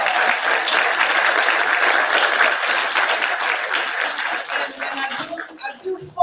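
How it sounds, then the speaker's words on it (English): A university lyceum audience applauds a guest author, dense clapping filling most of the moment before fading into scattered claps and a voice. "Let's give Dr. Black another round of applause."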